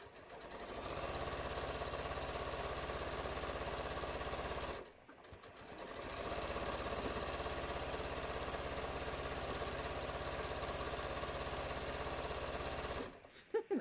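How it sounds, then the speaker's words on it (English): Sewing machine stitching a row on a bucket hat, a steady close whirring drone that runs for several seconds, stops briefly, then starts again and runs on before cutting off. "I'm just going to do one more row of stitching here."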